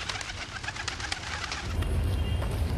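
Pigeons cooing at a town square in Kezira, Dire Dawa, soft repeated low coos over a steady background hum of traffic and ambience that grows louder toward the end, with no talking.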